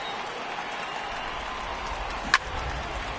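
Crowd noise in a PS4 baseball video game swells as fans rise for a full count, a steady, even roar of cheering and applause with one sharp click near the end.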